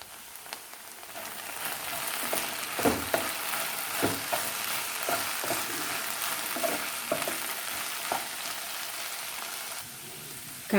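Okra (ladyfingers) fries in a pan with a continuous bright sizzle, punctuated by repeated clinks and scrapes of a spatula stirring the pieces, close and moderately loud.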